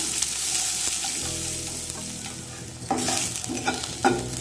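Onions frying and being stirred in a pan, a steady sizzle with scraping stir strokes, louder bursts of frying near the end; no voices.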